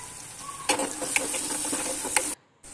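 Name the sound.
onion being sautéed with turmeric in a pan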